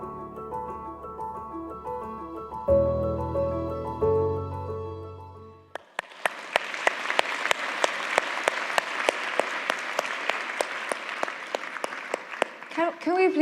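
Audience applause at the Claris Gala 2023 breaks out after a stretch of music, a dense, steady wash of clapping that carries through to the end.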